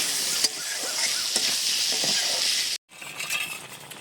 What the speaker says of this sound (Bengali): আর একটু হলুদ পরিমাণ মতো দিয়ে দিচ্ছি এবারে কষে নেব বেশ সুন্দর করে